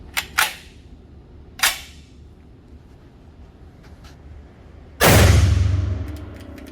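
A SCAR16 rifle with 55 grain NATO rounds, run at zero gas: a few sharp metallic clicks and rattles, then one loud, close gunshot with a rumbling tail.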